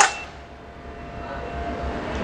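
A shatterproof glass pane hits the floor with one sharp, bright clang at the start, then a faint ringing tail that fades into quiet room noise without breaking.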